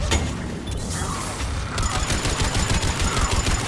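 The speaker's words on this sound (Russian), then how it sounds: "А, я по Гарусу стреляю" Gunfire in the video game Mass Effect 3, dense bursts of automatic shots and impacts layered over a continuous battle din, fairly loud and unbroken throughout.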